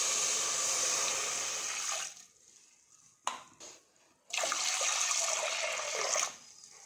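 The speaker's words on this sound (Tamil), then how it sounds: "நான் 1 டம்ளர் பாசிப்பருப்புக்கு 3 டம்ளர் அளவுக்கு தண்ணி சேர்த்துக்கிறேன்." Water pours steadily from a tumbler into a pressure cooker holding moong dal, in two rushing bursts separated by a quiet gap with a sharp clink, then softer trickling at the end.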